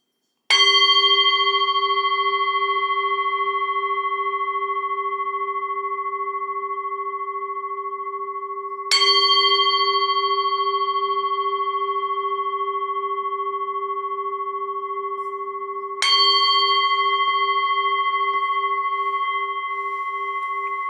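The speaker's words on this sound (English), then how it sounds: "I will just ring the bell and then we will focus on the breath" A meditation bell struck three times during a metta meditation session, each clear ringing tone sustaining and slowly fading before the next strike.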